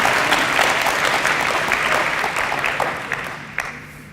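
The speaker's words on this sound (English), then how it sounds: "So can you give my wife a round of applause?" Sustained audience applause at a university graduation ceremony, dense and steady clapping from a large crowd that fades slightly toward the end, with a few sharper claps standing out.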